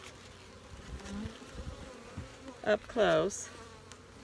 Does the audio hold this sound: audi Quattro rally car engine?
no